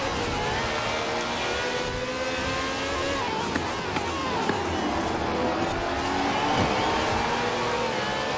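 The Lykan HyperSport's engine roars steadily in Forza Horizon 4, its pitch rising and falling with revs, loud and constant, while someone talks over it.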